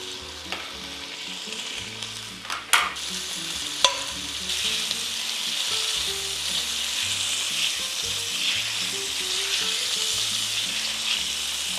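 Andouille sausage sizzles and fries in a pan with a thin layer of oil, a steady broadband crackle with a few sharp clinks and stirring knocks early on, loud and close with no talking.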